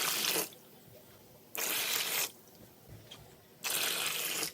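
Water pours into a measuring cup in three separate bursts, each a bright splashing rush lasting under a second, with short quiet gaps between them and nobody speaking.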